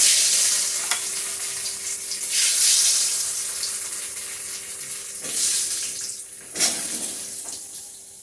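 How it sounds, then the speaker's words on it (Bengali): Long-cut potato strips frying in oil in a kadai, a steady broad sizzle with a few louder hissing swells as pieces are stirred. "এখন কড়াইয়ের মধ্যে যে তেলটা দেওয়া আছে সে তেলটার মধ্যে এই লম্বা করে কেটে রাখা আলুগুলি, যেটা আমি তরকারিটার মধ্যে ব্যবহার করব, সে আলুগুলি ভেজে তুলে নিচ্ছি।"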